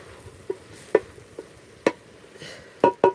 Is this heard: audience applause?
no